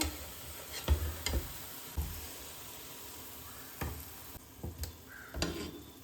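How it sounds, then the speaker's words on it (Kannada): Chicken keema vada frying in oil on a very low gas flame, a faint steady sizzle with soft scattered pops and ticks, no voices. "ನೋಡಿ ನಾನು ಗ್ಯಾಸ್ನ ತುಂಬ ಲೋ ಫ್ಲೇಮ್ನಲ್ಲಿಟ್ಟು ನೀಟಾಗಿ ಫ್ರೈ ಮಾಡ್ತಾ ಇದ್ದೀನಿ"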